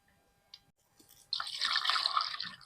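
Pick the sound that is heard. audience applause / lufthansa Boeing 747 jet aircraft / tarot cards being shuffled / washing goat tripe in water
washing goat tripe in water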